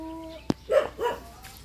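A dog gives two or three short, close barks in quick succession in a quiet outdoor spot near a house, with a brief sharp knock just before.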